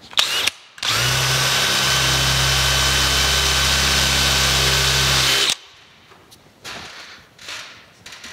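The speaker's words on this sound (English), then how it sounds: "I'll just use my hand drill here." A hand drill whines steadily for about five seconds drilling metal, loud and close, then cuts off, leaving quiet clicks and small handling noises.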